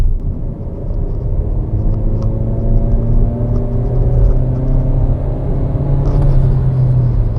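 MG ZS compact SUV in S mode on kick-down, engine droning steadily under cabin rumble with a rising tone as it accelerates, continuous and fairly loud from inside the car.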